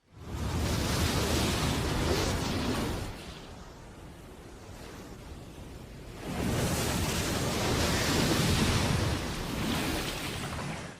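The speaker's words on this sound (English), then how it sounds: "The sound of a lion roar has been added to give the waves massive power." Massive ocean waves layered with a lion roar surge and crash in two long, loud swells, the roar giving a deep roaring rumble beneath them, easing briefly between.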